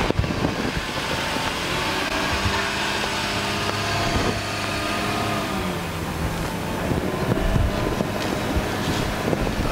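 Vehicle with a manual transmission driven slowly out of a repair shop, a steady engine drone with shifting low tones under broadband rumble, fairly loud and continuous throughout.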